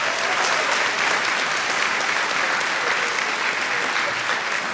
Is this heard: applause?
yes